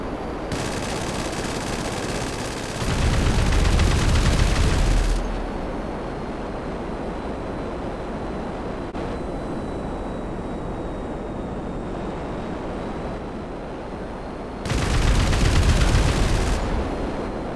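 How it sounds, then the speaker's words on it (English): Strafing runs by a P-996 Lazer fighter jet in GTA 5, with two loud, dense bursts of rapid gunfire rising over a steady roar of engine and background noise, the first early and the second near the end. "The P-996 laser fighter jet is about to do some strafing runs"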